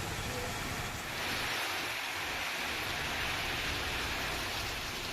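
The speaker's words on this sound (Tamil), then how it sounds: "தள்ளிவிடும் அளவிற்கு பலத்த காற்றுடன் 3 மணி நேரத்திற்கு மேலாக கனமழை பெய்தது." Heavy rain with strong wind in Tamil Nadu pours as a dense, constant roar and hiss, with wind gusting underneath, loud and unbroken throughout with no voices.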